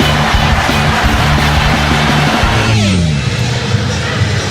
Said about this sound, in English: The crowd loves that.